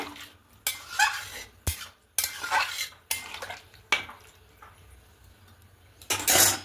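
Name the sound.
stirring milk into cooking chicken in a pan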